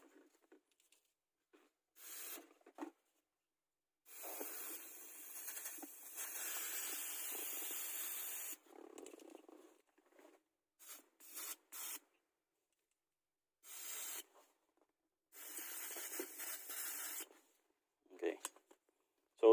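Lubricant sprays in short and longer hissing bursts onto the shifter cable of a Toyota Rush, close and crisp, separated by silent gaps.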